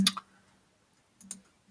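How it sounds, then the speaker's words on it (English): Two crisp computer mouse clicks made while selecting cells in a spreadsheet, close and quiet, about a second apart with near silence between them. "I select multiple cells by left clicking and then holding down the left mouse button."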